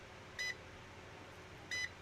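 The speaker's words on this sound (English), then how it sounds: "Alright, continuity beep testing." A Zoyi ZT-1000R insulation tester multimeter gives two short, clean continuity beeps about a second apart, each a steady high tone over quiet room hiss.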